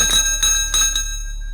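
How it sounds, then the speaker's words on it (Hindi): A mass of bells rings inside a cave as a horror-story sound effect, with bright, sustained metallic chiming and several pulsing strikes that slowly fade. It is loud and steady, with no talking. "अचानक गुफा में हजारों घंटियां बजने लगी।"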